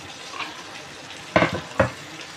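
Potatoes and carrots hit hot oil in a pan for kangaroo kaldereta, giving a faint sizzle with two sharp stirring clatters close up, and no talk.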